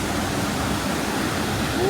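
Water churns in a wave pool in Japan, a dense, steady roar of rushing and surging water that fills the whole moment without a break.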